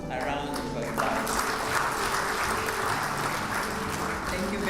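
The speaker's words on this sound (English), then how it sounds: "Please give this team a round of applause" Round of applause from an audience at a county government policy launch, steady clapping from many hands heard at moderate distance, with some voices and background sound mixed in.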